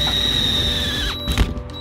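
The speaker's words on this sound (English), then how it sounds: "he just started just drilling into my van" A power drill bores holes into a van roof during a camper conversion, a loud whirring motor whose pitch slides down as it winds down, followed by a brief clunk.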